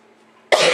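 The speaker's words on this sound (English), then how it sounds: "Just ignore me while I cough." A single harsh, loud cough bursts in abruptly after a quiet stretch of low game ambience, close to the microphone.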